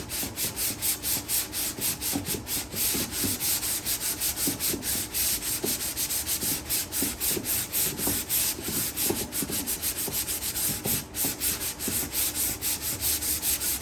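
Rhythmic, scratchy strokes of sandpaper rubbing back and forth on wood, close and continuous, with a steady even pace and no talking.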